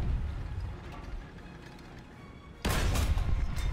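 A tank cannon fires in a War Thunder battle, one sharp loud blast that cuts in over the rumbling engine and mechanical clatter of an M3 Lee/Grant tank.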